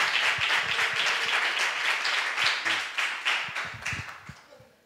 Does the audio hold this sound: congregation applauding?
yes